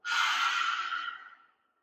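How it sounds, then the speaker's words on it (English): A single forceful yogic breath-of-fire exhale pushed out with the tongue out, a loud, close, breathy rush lasting about a second and a half before trailing off to silence. "we're going to blow fire with our tongues out"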